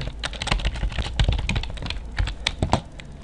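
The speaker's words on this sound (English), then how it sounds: "Then we start typing in commands, and we tell it what we want it to do." Rapid, uneven keystrokes clatter on a computer keyboard as code is typed, close and crisp with bursts of clicks and short pauses, no voices.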